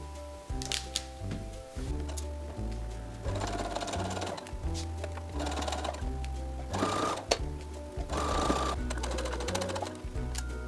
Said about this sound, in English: sew all along my seam allowance